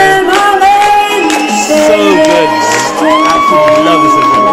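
A crowd cheers and shouts at a DJ set at an Innervisions event, a dense, loud wall of whoops and yells with sustained tones running through it.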